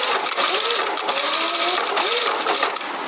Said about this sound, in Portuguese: Dobra o tecido e costura bem na beiradinha